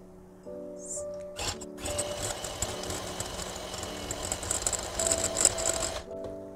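An electric beater whips cold unsalted butter from the fridge for a cream, starting after a brief pause and giving a steady motor whir with rattling for several seconds before stopping.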